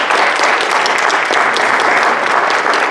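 Dense, steady applause fills the room at a monthly staff meeting as a staff member of the month is honored, loud and continuous with no clear gaps.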